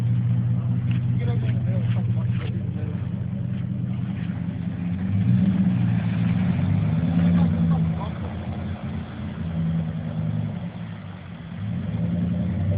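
Someone's truck engine revving in a loud, sustained roar that rises and falls, with a throaty low drone and a brief dip near the end, while people talk over it.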